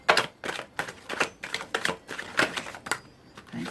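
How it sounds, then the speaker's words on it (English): Tarot cards riffled and shuffled by hand in quick repeated bursts of papery flicks, close and moderately loud, with no speech. "Just going to shuffle again as I dropped those."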